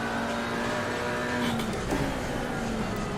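McLaren GT4 race car in a wet-weather racing game at the Nürburgring, engine whining steadily close by with a brief tire squeal midway, continuous and moderately quiet.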